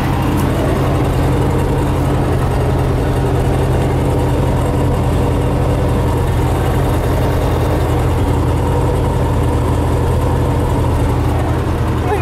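A work vehicle engine idles steadily and close, a low, even rumble running unbroken throughout with its exhaust muffler in place.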